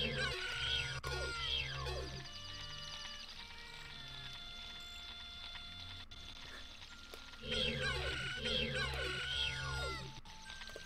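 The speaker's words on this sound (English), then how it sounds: "Targeting an enemy is the chicken sound" Chicken-like squawking cue sounded when targeting an enemy in a multiworld video game, heard as two bursts of layered clucking calls over game music and tones, loud and close.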